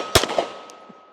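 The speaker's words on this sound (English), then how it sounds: "Let's go ahead and take a few more shots." A single sharp, loud shot from a Nighthawk Blackhawk fired one-handed, with a short echoing tail.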